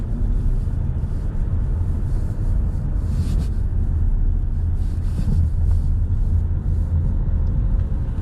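A car pulls onto Roston Drive during a driving test in Hinckley, a steady loud engine and road rumble with wind noise throughout, no talking.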